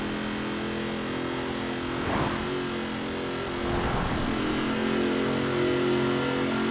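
A Ford Ranger Raptor in Forza Horizon 4 drones at steady high speed in ninth gear, its engine a loud continuous roar with a slight rise in pitch partway through, with no talk.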